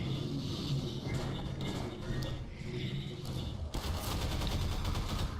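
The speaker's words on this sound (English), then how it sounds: "a random guy comes around the corner and sprays at me" Automatic gunfire spraying in Half-Life 2, dense rapid bursts of shots rattling continuously, with a sharper, louder volley kicking in toward the end.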